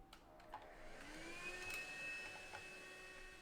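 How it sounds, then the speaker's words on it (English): A vacuum cleaner whirs at moderate distance while cleaning a conical coffee grinder, its pitch rising and wavering with a few light knocks. "you might need to use the vacuum cleaner again."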